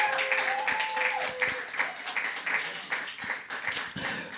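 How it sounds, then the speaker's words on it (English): An audience claps for Julian, a student drummer and composer being introduced at a music event, with uneven applause that thins out in patches under a lingering tone. "Please have a big clap for Julian."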